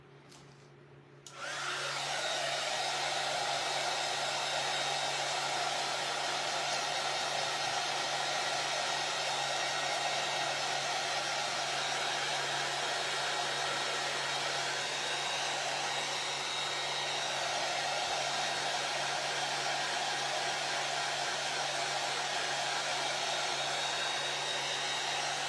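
A hair dryer drying a decoupage project, switching on after a brief quiet moment and then blowing as a loud, steady, unbroken whir with a low hum beneath.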